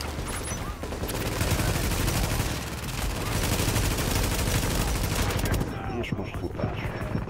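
Dense automatic gunfire rattles in Tom Clancy's The Division, sustained bursts from several weapons overlapping loudly for several seconds before easing off, with someone speaking Hungarian over the shooting.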